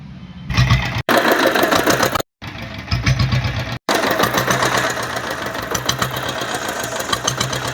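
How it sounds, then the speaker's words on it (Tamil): An old diesel Bullet motorcycle engine idles close by with a steady, loud, rapid mechanical thumping that runs almost the whole time, broken by two brief cutouts. "இன்ஜினோட பீட்டும் காட்டுறேன் பாருங்கள்"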